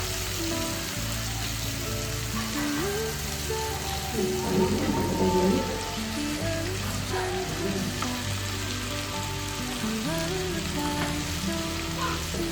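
Palak spinach fries in a pan for hesarubele dal, giving a constant, moderate crackling sizzle like light rain, with a brief swell of stirring partway through.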